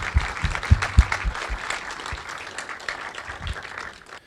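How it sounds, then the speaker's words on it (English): Applause for panelists at a talk on the art of NFTs, a modest crowd clapping steadily for a few seconds with some louder claps early, tapering off toward the end. "let's give a big round of applause to the panelists and Pietri"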